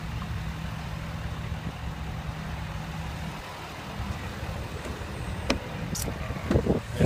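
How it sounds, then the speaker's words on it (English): A lifted 2012 Ford F250 pickup's engine runs outdoors on a wet, nasty day, a steady low rumble and hum throughout with a few sharp knocks and clicks near the end, close by and without talk. "I'm running the truck first."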